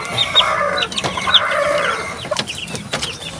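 Young chicks cluck and peep in quick, overlapping bursts from a small flock receiving drops of Tilmicosin (Tilmoco 25) medicine for coryza, the calls moderately close and continuous with no talk.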